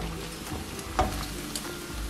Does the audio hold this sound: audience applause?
no